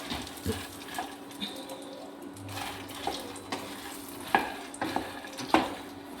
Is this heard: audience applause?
no